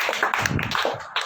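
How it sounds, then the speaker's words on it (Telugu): A prayer meeting congregation claps together in an uneven, lively patter of hands, close and steady for a brief moment with no talking. "గట్టి కొడదాం చప్పట్లు గట్టిగా"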